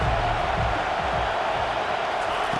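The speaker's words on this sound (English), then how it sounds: "Decibels rising as the crowd gets behind this defense on third down." A stadium crowd roaring on third down at a college football game in EA Sports College Football 25, a dense, sustained wash of noise with no clear peaks, heard throughout at moderate volume.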